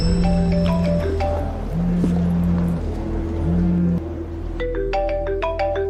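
A melodic electronic ringtone plays in a repeating phrase of held tones, followed by a quick run of bright chime notes, over a steady background hum.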